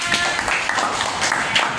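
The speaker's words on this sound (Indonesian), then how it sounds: "Kasih tepuk tangan" Classroom students clap for a classmate's self-introduction, a dense burst of many hands close by with a few sharper slaps, steady for under two seconds.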